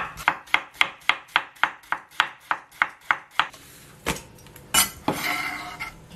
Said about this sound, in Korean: 자, 이렇게 어슷하게 해서 한번 썰어주겠습니다.